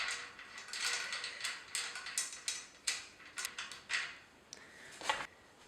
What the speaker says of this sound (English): We have a 5/8 inch socket right here, and we'll use this.